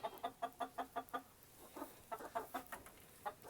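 Chickens clucking in a homestead chicken house on a cold, breezy day while roosting, a rhythmic series of sharp close clucks, a short pause, then more scattered clucks, faint and alone.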